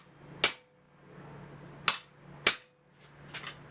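A hammer drives a chisel, gripped in vice grips, into hot iron while forging the base of Gothic-style medieval andirons: three sharp, ringing strikes spaced apart, then two fainter taps, close and with no talking.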